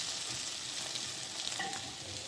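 Cabbage fritters frying in hot oil, a close, even crackling sizzle with light stirring clinks toward the end, no voices.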